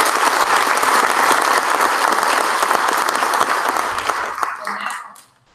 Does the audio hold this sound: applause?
yes